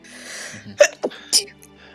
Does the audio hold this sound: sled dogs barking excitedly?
no